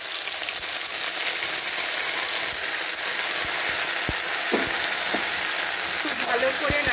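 Pea paste sizzling in hot oil with a pinch of asafoetida, a dense continuous hiss broken by scattered spoon scrapes and knocks against the pan.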